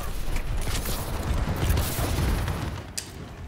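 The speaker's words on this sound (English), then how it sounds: "Oh, that's a bombing run." Explosions from a bombing run in Call of Duty: Advanced Warfare, a dense rumbling barrage of booms and crackling blasts that rolls on continuously and loudly.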